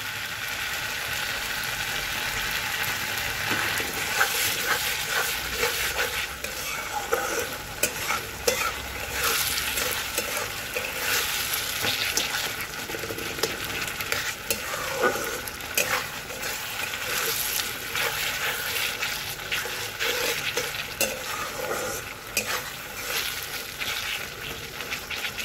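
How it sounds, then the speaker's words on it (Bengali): Tomatoes, onions, chopped green chilli and a little sugar fry in a pan for a tangy fish curry. A continuous sizzle of frying carries on throughout, with repeated scraping and stirring sounds close up and no talk. "টমেটো পেঁয়াজ একদম ভালো করে ভাজা হয়ে গেছে।"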